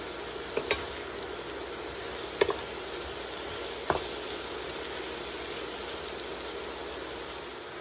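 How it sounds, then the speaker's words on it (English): Mushrooms sautéing with shrimp, onions and chili for spicy yaki udon, a steady sizzle with a few quick stirring scrapes early on, fairly quiet and without talk. "we're going to add our mushroom to saute with our shrimp, our onions, our chili"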